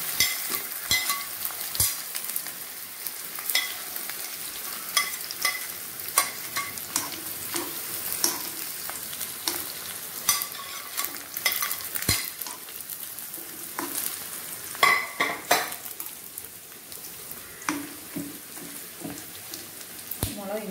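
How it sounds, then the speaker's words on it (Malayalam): Ingredients for mulaku chammanthi dry-roasting in a pan, with steady stirring scrapes and light crackling through the whole stretch and sharp clicks of a spoon against the pan scattered throughout, close and moderately loud. "നമ്മൾ എല്ലാ കാര്യങ്ങളും റോസ്റ്റ് ചെയ്യണം"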